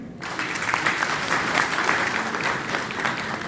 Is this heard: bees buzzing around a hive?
no